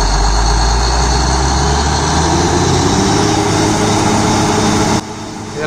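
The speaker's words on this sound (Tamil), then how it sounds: "ஒரு 300 ஹார்ஸ் பவர் இருக்கக்கூடிய இன்ஜின் வந்து போட்டிருக்காங்க இந்த கம்ப்ரஸருக்காக" A 300 horsepower engine driving the compressor of a tractor-mounted drilling rig runs with a loud, steady low rumble and mechanical hum, close and continuous, dipping slightly in level near the end.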